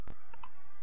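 A computer mouse clicks twice in quick succession, crisp and close, over a steady hum of room noise.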